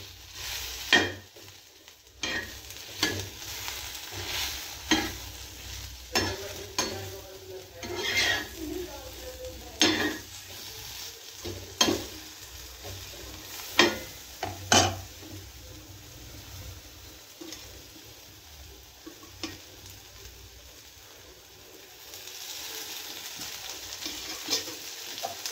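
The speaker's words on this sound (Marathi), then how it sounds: "अशा प्रकारे आपण आळूच्या वड्या तेलामध्ये फ्राय करून घेऊ" Alu vadi, sliced colocasia leaf rolls, frying in oil in a home kitchen, with a steady low sizzle under repeated clinks and scrapes of a utensil turning the pieces in the pan.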